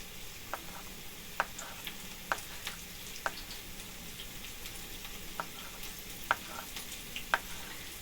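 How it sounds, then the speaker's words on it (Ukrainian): Onion frying gently in a pan gives a soft, even sizzle with occasional small pops and ticks scattered over several seconds, fairly quiet and without talk. "Доки смажиться цибулька, нарізаємо яйця."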